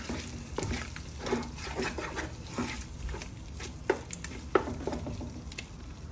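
Chili, coriander and cumin powders are stirred into mutton biryani masala in a pot, with close scraping strokes and light clinks over a continuous low sizzle, no voices.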